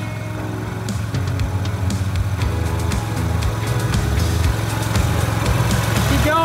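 A Ram TRX pickup truck idles and rolls slowly in a shop over a person lying underneath, giving a steady, loud, low engine rumble with faint clicks and rattles above it.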